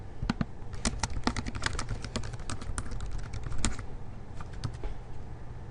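Steady clicking of keys on a computer keyboard as question text is entered into an online assessment editor, a quick irregular patter of close, crisp taps running throughout with no voices.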